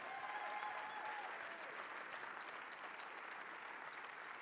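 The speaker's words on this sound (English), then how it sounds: "how about a big round of applause to some of the greatest bodybuilders in history right here on the same stage" An audience applauds champion bodybuilders on stage at an Arnold Sunday showcase, a steady, fairly faint wash of clapping that sounds distant and keeps going throughout without any talk.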